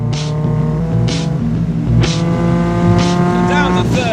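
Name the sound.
race car downshifting to third gear and turning in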